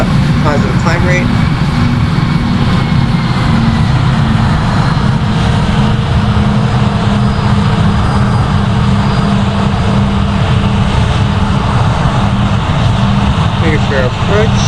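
Airbus A320 jet engines during climb-out after takeoff in the Project Flight simulator game, a loud continuous roar with steady tonal hum filling the whole stretch, with faint brief beeps near the start and end.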